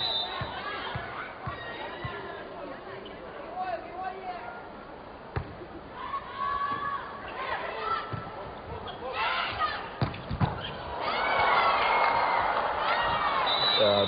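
Arena crowd at a women's volleyball match, Poland versus Kazakhstan at the FIVB World Grand Prix in Hong Kong, cheering and chattering throughout under a commentator's voice, swelling loudest near the end with occasional ball impacts.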